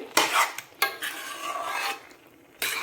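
Carrot halwa cooked with milk being stirred and roasted in a pan over medium heat, heard as a few rough, rasping spatula scrapes in quick bursts with short pauses between them, close by and without any talking.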